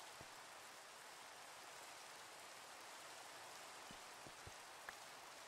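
Steady rain in Minecraft with the All The Mods 8 modpack, a constant soft hiss of falling drops with an occasional faint patter, low and unbroken, with no voices.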